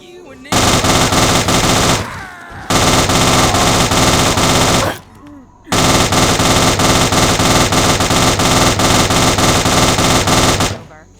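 Fallout 3 gunfire in the Point Lookout add-on, three long unbroken bursts of rapid automatic shots, very loud and close, separated by brief pauses with faint shouting in the gaps.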